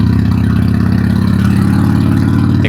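A Harley-Davidson motorcycle engine runs steadily at idle in Kuala Lumpur, a loud, continuous low throbbing rumble that stays close and constant throughout, with no voices over it.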